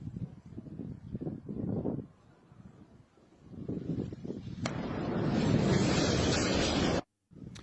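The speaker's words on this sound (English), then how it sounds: "That was one hell of an explosion." A deep, rumbling roar from an ammunition depot explosion builds into a sustained broadband blast that fills the scene, loud and distant-sounding, then cuts off abruptly.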